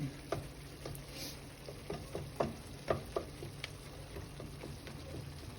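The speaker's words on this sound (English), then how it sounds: "And I just break up the meat." Ground meat for bolognese frying in a hot pan as it is broken up, giving a steady close sizzle with scattered scraping and tapping clicks from the utensil, no talking.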